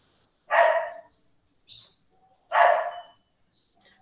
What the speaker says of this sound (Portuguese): deve ser o cachorro aqui perto de casa, né? Que tá inspirado hoje. É do vizinho.